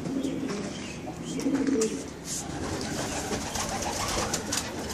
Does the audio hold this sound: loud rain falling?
no